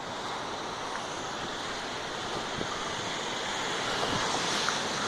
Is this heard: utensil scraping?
no